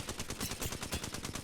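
Prowler SMG hipfire with a purple laser sight in Apex Legends, a fast regular stream of rapid shots at a target about 40 meters away, steady and evenly spaced.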